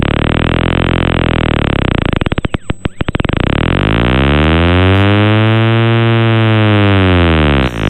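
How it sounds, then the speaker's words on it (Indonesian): A harsh electronic buzz from the Lixo.exe computer virus fills the clip, loud and continuous. It shifts pitch, stutters and drops out briefly near the middle, then returns as a sweeping, warbling tone that cuts off near the end. "Ini adalah suara dari virusnya bener-bener ya."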